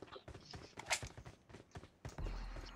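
Horse hooves clip-clopping in a steady walking rhythm, fairly faint, with some creaks and background noise.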